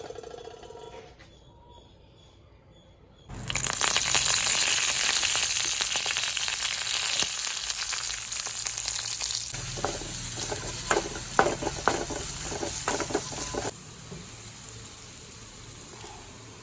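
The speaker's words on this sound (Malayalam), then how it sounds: "ഇനി റവ വറുത്ത് വരട്ടെ കേട്ടോ" Semolina roasts in a pan for upma, a steady dry sizzle and scraping stir that starts abruptly and runs for about ten seconds before dropping to a quieter hiss.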